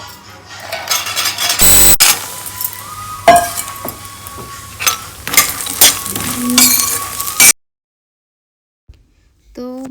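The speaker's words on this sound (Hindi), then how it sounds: "तो मखाने फ्राई कर रहे हैं" Makhana (fox nuts) frying in a pan for a fasting-day snack, with sizzling and clinking stirring against the pan in irregular bursts, a brief sharp clatter near the start, then quiet at the end.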